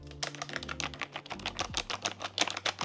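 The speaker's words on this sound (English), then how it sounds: "this one uses low profile mechanical keys" Rapid, steady typing on a low-profile mechanical keyboard fitted with XVX low-profile keycaps, a dense run of crisp, close clicks and clacks with no voices.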